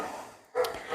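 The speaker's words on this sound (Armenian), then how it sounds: "շունը հենց հաչում է, մեր տան մեջ արձագանքում է" A single short dog bark, fairly close, after a brief moment of near silence, with a slight echo through the house.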